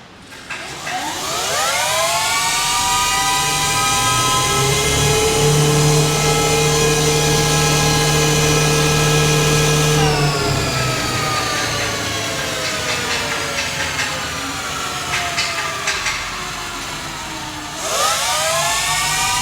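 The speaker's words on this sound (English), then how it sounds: "the rear wheel is going to get spun in every mode to ensure it's working correctly" Rear wheel of an E-RIDE PRO electric bike spun on a factory test stand, a loud steady motor whine that climbs in pitch, holds, drops around the middle and then rises again near the end, with no talk.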